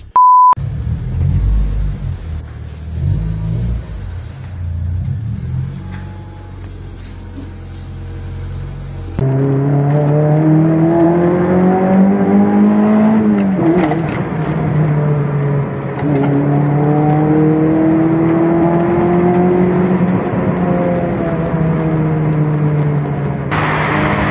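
A car driven away on a test drive: engine rumble first, then a steady, loud revving drone rising and falling through the gears, with a short beep near the start and no talk.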